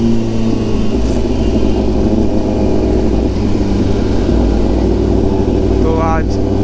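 A Kawasaki ZX10R motorcycle rumbles steadily at low speed through jammed city traffic in Kolkata, a continuous loud engine drone with surrounding road noise and a rider talking over it.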